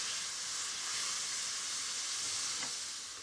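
Chopped onion sizzles in melted butter in a pan as it is stirred, a steady close hiss of frying with a faint scrape partway through and no voices.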